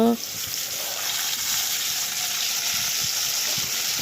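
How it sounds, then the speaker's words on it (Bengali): Potatoes frying in a pan give a steady, loud, close hiss that holds evenly for several seconds after a brief opening sound. "আলু ভাজা বসিয়ে দেওয়া হলো আলুগুলো ভেজে নেব"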